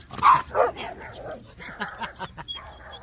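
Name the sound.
small golden doodle dog barking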